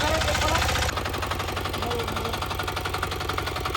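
A tractor engine running nearby in a hillside village, a loud steady rhythmic knocking chug that drops slightly in pitch after a moment, with people talking over it.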